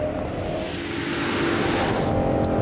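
A car's engine roars steadily at high speed climbing a hill, with the BMW X5 nearby pulling about 96 mph, the drone rising slightly in loudness, heard from inside the vehicle.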